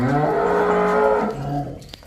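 A buffalo or cow on a dairy farm gives one long, loud, close moo lasting nearly two seconds before trailing off, with no talking over it.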